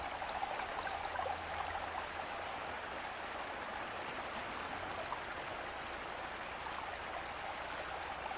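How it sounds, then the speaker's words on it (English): Eels Creek flows in a steady, unbroken rush of water, close and fairly soft, with no voices. "eagerly awaiting for the sound of Eels Creek"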